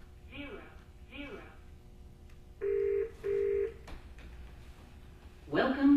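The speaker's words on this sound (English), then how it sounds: "So once you have the meeting set up, you just dial 1000. 1 0 0 0." Telephone keypad tones sound as a number is dialed for a conference call: two loud, clean beeps in quick succession. Speech comes before them, and another voice and a tone follow at the end.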